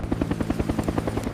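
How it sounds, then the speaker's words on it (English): A helicopter flies close overhead above a canyon, its rotor thumping in a fast, even beat of blade slaps over a steady engine drone, loud and near. "I've never been so happy to hear a helicopter."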